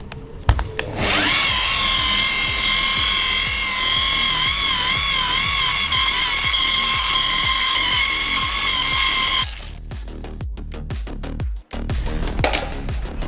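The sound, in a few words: dual-action (DA) polisher polishing car paint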